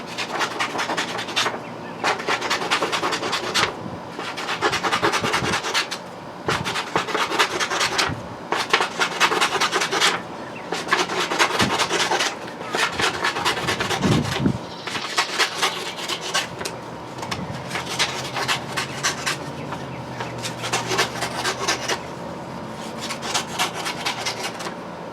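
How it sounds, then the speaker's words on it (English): Scissors cutting paper into strips about an inch wide for seed bombs, a steady run of close, dry rasping snips in repeated bursts with brief pauses between. "you're going to start by cutting it up into strips"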